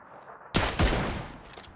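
Gunfire in PUBG on the Miramar map, two quick sharp shots close together followed by a fading echoing tail.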